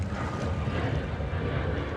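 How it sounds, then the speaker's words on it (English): Airplane flying overhead near Newark Airport above a kayaking spot on Staten Island: a steady broad roar, fairly loud and sustained, mixed with wind rush across the microphone. "Got an airplane flying overhead."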